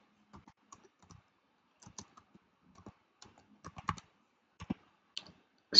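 Keystrokes on a computer keyboard as a search for a QR code is typed into Canva, with scattered soft clicks that grow into a faster, louder cluster toward the end, with no one talking.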